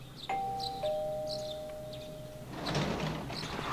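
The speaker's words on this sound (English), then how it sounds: "You heard the doorbell ringing." A two-tone doorbell chime rings in Persona 4 Golden, a bright ding followed by a longer dong that fades, then a soft sliding-door sound follows inside a quiet house scene.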